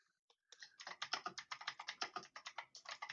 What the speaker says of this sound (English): God damn that keyboard.